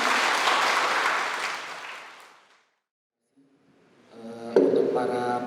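Seminar audience clapping for four speakers, a dense burst of applause that fades away to silence, after which music begins.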